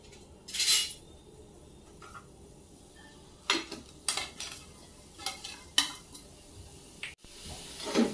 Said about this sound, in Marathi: चांगलं असं लालसर भाजून घ्यायचं